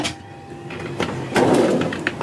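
A kitchen drawer slides open in a 2024 Burstner Harmony Line Lyseo TD 736 Tour motorhome, a short knock followed by a rolling, rumbling glide on its runners, close and fairly loud in a small interior.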